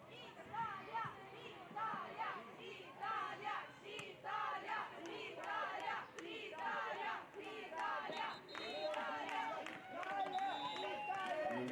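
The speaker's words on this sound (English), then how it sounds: "We've got a good cheering group from Italy." A group of Italian supporters cheering at a women's canoe polo world championship match against New Zealand, a lively chorus of shouts and chanting voices rising and falling continuously over the whole stretch.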